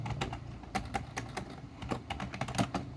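Rapid, irregular keystrokes on a computer keyboard as code is entered in a programming exercise, close and crisp, with several quick bursts and brief pauses and no talk.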